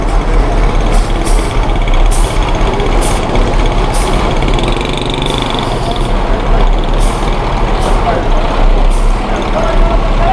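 A heavy truck on a road in Manzoor Colony pulls away after bulldozer work near a drain, its engine rumbling loud and steady with hissing air-brake bursts, mixed with street noise and voices.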